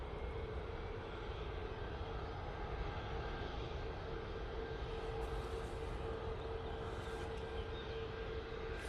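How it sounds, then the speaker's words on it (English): An ATR 72 turboprop airliner arriving from the Isle of Man at Manchester Airport produces a continuous, steady engine drone with a sustained tonal hum, heard at moderate distance without talk. "ATR 72 coming in"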